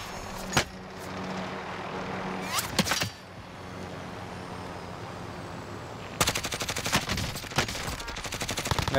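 Bursts of automatic gunfire in the video game Call of Duty: Modern Warfare: a sharp shot near the start, another burst around the third second, then a loud, dense rapid-fire volley over the final few seconds, with steady game ambience between.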